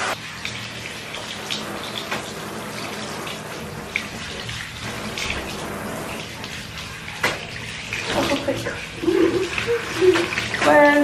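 Water runs steadily from a tap while dyed blonde hair is rinsed out, a continuous splashing wash with a voice talking over it.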